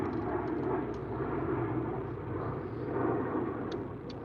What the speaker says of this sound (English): Got a big C-130 flying overhead.